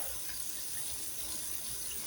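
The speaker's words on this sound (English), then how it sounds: "We're gonna run our water." Water running from the faucet into a kitchen sink above a garbage disposal being tested after a declog, a steady, even rushing hiss throughout with no talking.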